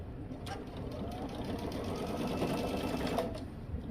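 Sewing machine basting a skirt seam through the stay, ruffle and godet, a steady close mechanical whir that runs throughout with a few soft clicks.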